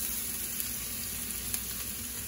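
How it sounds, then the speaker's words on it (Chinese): Shallots and minced garlic stir-frying in hot oil for a black pepper sizzling beef dish, a dense continuous sizzle close up with faint occasional ticks from the pan. "全部爆香"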